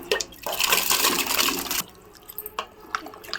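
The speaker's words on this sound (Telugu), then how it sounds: "సరిపడా వాటర్ పోసుకొని ఎసరు పెట్టుకున్నా నేను" Water is poured into a cooking pot for meal maker pulao: a gushing pour of about a second and a half, then quieter small splashes and trickles.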